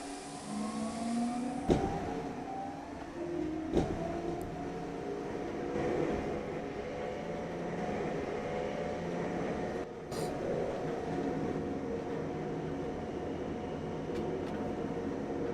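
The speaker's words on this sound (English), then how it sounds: "This is a Grasslands bound E-train." A Grasslands-bound New York City subway E train running, a steady broad rumble of wheels and motors with a few sharp clunks early on and a short dip near the middle, with no talk over it.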